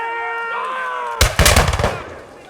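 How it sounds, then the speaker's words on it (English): A volley of musket fire in a reenacted Revolutionary War battle bursts out as a loud, ragged cluster of shots lasting about a second after a tense, tonal lead-in. "They are met by a volley of musket fire."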